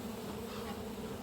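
Honey bees buzz in a dense, steady drone close by during a hive inspection and split, a loud continuous hum with no voices.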